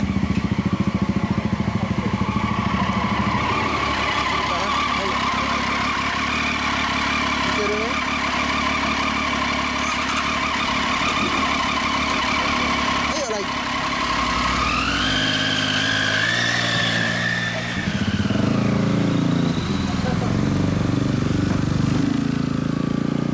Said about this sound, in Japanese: エンジンを聞かせて。